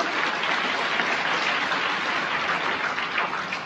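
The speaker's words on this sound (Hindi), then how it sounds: "अब पहले अपने लिए जोरदार तालियां बजाओ, अपने लिए बजाओ, जोर से बजाओ यार, अपने लिए।" An audience claps loudly and continuously at a study-tips talk, dense applause at an even level throughout.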